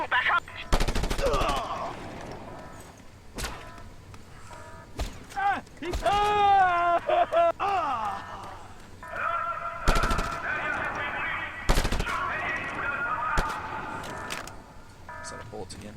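Video game gunfire in Just Cause 2: repeated bursts of shots spread across the span, sharp cracks between stretches of engine and effect noise, with someone talking over parts of it.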